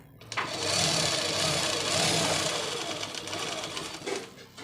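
A sewing machine runs steadily, stitching falls onto a saree in a loud continuous whir with slight pauses, while someone speaks over it.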